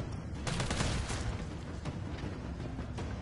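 Gunfire crackles in a Resident Evil 3 speedrun, a dense run of overlapping shots and booms at steady volume with no talk over it.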